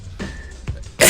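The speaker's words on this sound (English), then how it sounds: "Jeez, I sneezed." A person gives one sudden, loud sneeze at the very end, after a short stretch of quiet breathing and small noises.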